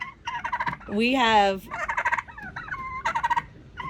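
Homestead turkeys gobble in a rapid, rattling chorus, several loud bursts close by with one rising, stretched call in the middle, while a person briefly talks under them.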